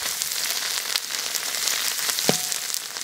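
Steady hissing sizzle of pickled cabbage being stir-fried in a hot wok, with Sichuan peppercorns going in, an even crackling spread throughout with a brief clink near the end and no talking.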